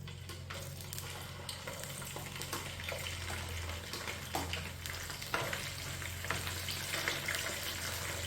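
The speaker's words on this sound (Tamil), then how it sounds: "இப்போ வந்து இந்த வெண்டைக்காயை பொரிக்க போகிறோம்" Okra sizzles steadily in hot oil, a close continuous crackle with occasional scraping from stirring.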